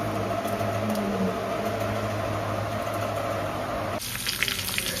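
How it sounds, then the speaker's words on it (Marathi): Tadka of cumin, onion, curry leaves and garlic sizzling in a pan for khichdi: a continuous hissing sizzle that shifts brighter and busier partway through, with no talk. "बघा आता तडका मारलाय"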